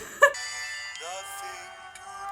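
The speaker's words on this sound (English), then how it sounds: "Are they using wedding bells on this?" Bell-like chimes ring through a cast recording, a bright struck tone followed by sustained ringing notes over the orchestral music, with no one speaking.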